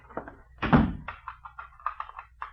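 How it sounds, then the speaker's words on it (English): Door being locked in an old-time radio crime drama: a single heavy thunk of the door and latch, followed by a few small clicks and taps, close and fairly quiet with no talk. "Why are you locking the door?"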